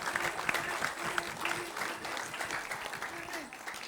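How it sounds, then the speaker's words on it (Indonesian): A studio audience at an Indonesian TV comedy show claps with lively, sustained applause, and voices talk over it throughout. "Kita berikan tepuk tangan yang meriah untuk Van Ledut."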